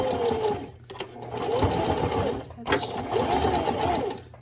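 A sewing machine runs a straight stitch through repurposed denim jeans in two close, steady bursts of rapid whirring and clicking, separated by short pauses.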